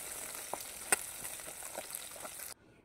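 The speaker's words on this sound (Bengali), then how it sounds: "এপিট ওপিট করে লাল লাল করে মাছগুলো ভেজে নেব।" Pabda fish frying in hot oil in a home kitchen, a steady soft sizzle with a few sharper crackles and one bright pop near the middle, close and fairly quiet, ending abruptly.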